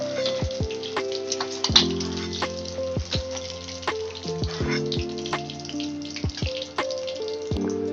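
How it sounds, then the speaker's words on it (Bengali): Eggs fry in oil in a pan with a soft, steady sizzle broken by scattered sharp crackles and pops, heard close and fairly quiet. "বন্ধুরা দেখুন ডিম আমাদের ভাজা হয়ে গেছে এর থেকে আর বেশি আমরা ভাজবো না"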